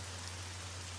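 Light rain falls steadily during a thunderstorm, a soft continuous hiss with a low hum beneath it and no voices.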